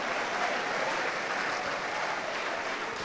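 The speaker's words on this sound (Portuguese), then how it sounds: "Você não acha que ele merece muitos aplausos e muitos glórias?" A church congregation applauds, a broad, even wash of many hands clapping together, sustained at a steady level for a few seconds with no voices on top.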